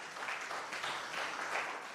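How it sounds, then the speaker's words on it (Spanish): A church congregation applauds in a faint, distant wash of many hands clapping together for a couple of seconds. "Y un aplauso también, ¿por qué no?"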